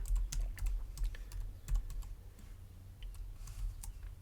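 Typing on a computer keyboard, a quick run of distinct key clicks at close range, steady and fairly quiet with no voices.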